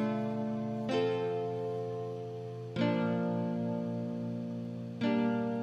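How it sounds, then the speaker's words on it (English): Software classical acoustic guitar preset in FL Studio playing a slow melody, three plucked notes or chords each ringing and decaying, soft and clean with no one speaking. "And then for my next plugin, I opened up this classical acoustic preset."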